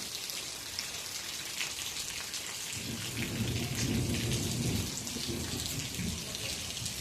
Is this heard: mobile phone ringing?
no